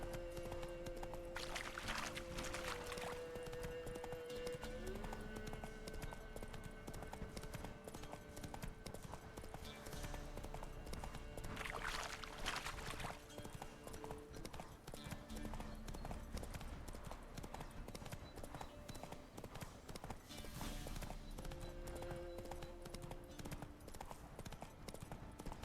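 Horse hooves galloping in The Witcher 3 video game, a steady, loud clip-clop rhythm running throughout, with brief whinny-like tones and game sounds layered over it.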